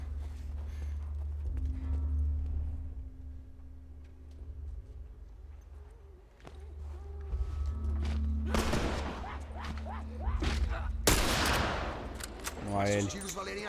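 Gunfire from The Last of Us video game, a couple of loud, harsh bursts of shots breaking through a low, steady game background, with voices heard around them.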